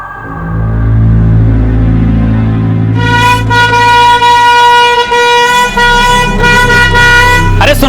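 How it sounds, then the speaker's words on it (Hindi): A truck's air horn blares loud and close, a long sustained blast that starts a few seconds in over a rumbling engine, with brief breaks and a final push, and a voice shouting underneath. "हॉर्न मारो"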